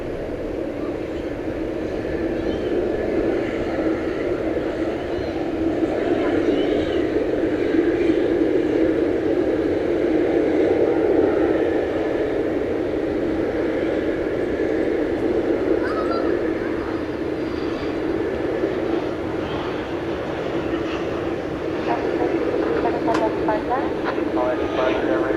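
A Boeing 747 taking off at night from DFW Airport on runway 18 left: a broad, steady jet roar that swells gradually and holds, heard from a distance with people talking over it.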